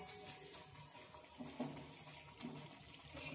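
Water poured into a simmering jackfruit-fritter curry: a faint, continuous splashing pour, fairly quiet and steady throughout.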